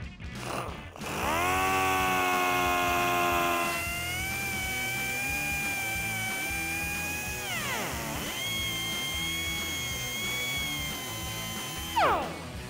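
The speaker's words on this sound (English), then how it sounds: "now we're gonna use our cutoff wheel to cut out this plastic panel here" A cutoff wheel spins up to a high, sustained whine and cuts into a plastic panel behind the grille of a 2021-2024 Ford Bronco, its pitch sagging under load and rising again, loud and close throughout.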